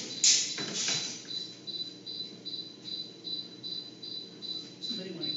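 A cricket chirps indoors in a steady, regular pulse, with a brief knock and shuffle at the start and faint room noise underneath.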